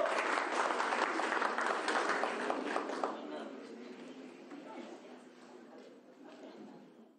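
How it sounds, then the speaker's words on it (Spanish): A crowd at a Bolivian national assembly applauds the introduction of President Luis Arce, steady dense clapping that gradually fades and thins out over several seconds. "Un aplauso, por favor."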